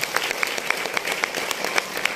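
Audience applause at a talk event, fairly close clapping with a few sharp, evenly spaced claps standing out over a steady crowd wash, moderate in loudness.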